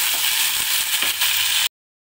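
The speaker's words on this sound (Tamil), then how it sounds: "ஒரு செகண்ட் அப்படியே அந்த கோவங்காய் வந்து எண்ணெயிலேயே வதங்கட்டும்." Ivy gourd pieces sautéing in hot oil, a loud close hiss and sizzle with light stirring scrapes, ending abruptly in silence.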